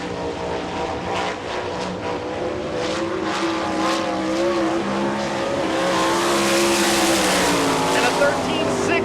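World of Outlaws sprint cars run on a dirt track at Rossburg, Ohio, engines roaring loud and steady as a car passes, with a rising whine and a public-address announcer talking over it.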